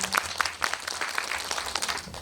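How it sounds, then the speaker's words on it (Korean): Audience at a Korean film screening with a guest visit applauding, a lively crackle of many hands with a few sharper individual claps standing out, fairly loud and close, no voices over it. "네, 큰 박수 부탁드리겠습니다."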